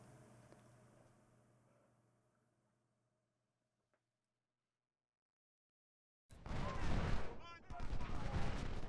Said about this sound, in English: Batteries of 14 guns of 10-pound parrots are very effective.